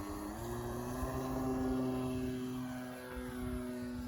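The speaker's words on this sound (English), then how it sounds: "this is a Easy Fly 40, really good trainer plane" An Easy Fly 40 RC trainer plane takes off at half power, its engine a steady, fairly loud buzzing drone that holds its pitch and swells slightly before easing, heard alone without voices.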